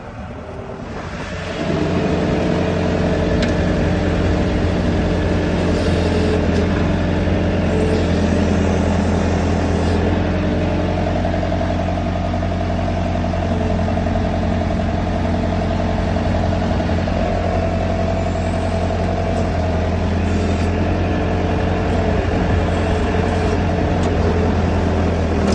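A Case 580B backhoe's diesel engine runs loud and close, holding a steady droning rumble with faint mechanical rattles throughout after a brief quieter start.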